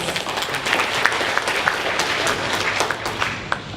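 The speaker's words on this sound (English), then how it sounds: "I think you deserve a round of applause." A crowd applauds steadily, many hands clapping in a dense, even patter that holds throughout without voices.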